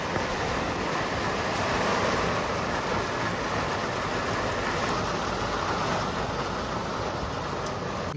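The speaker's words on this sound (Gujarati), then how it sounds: "મિત્રો વરસાદ ચાલુ થઈ ગયો છે" Heavy rain pours down steadily, a dense continuous hiss with no voices or breaks.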